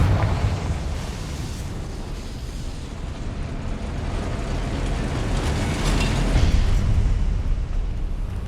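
Confringo explosive spell blast in the Hogwarts Legacy video game, a sustained loud rumbling roar with a heavier burst swelling partway through, low and dense throughout, no talking.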